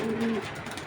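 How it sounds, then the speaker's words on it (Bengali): A Belgian pigeon gives a short, low, close cooing call lasting under half a second, followed by quiet room noise. "এটা হলো অরিজিনাল বেলজিয়াম কবুতর, বেলজিয়ামের কবুতর"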